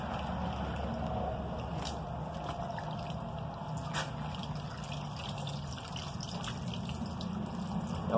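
Animal hides swished around in baking soda water inside a bucket, giving continuous sloshing and soft dripping splashes close by, with no talking.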